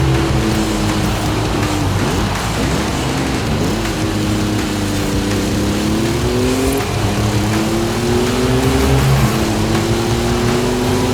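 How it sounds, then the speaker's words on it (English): A Ford Bronco drives off-road in a PS5 racing game, its engine a steady, loud drone with gentle rises and dips in pitch throughout, with no voices. "Driving the Ford Bronco on PS5 with the Thrustmaster T-GT II delivers a surprisingly immersive and realistic experience, especially for an off-road SUV."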